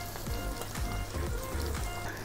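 Enoki mushrooms sizzle and fry in an oily grill pan at a home barbecue, a steady close crackling hiss broken by soft stirring scrapes, with no talking.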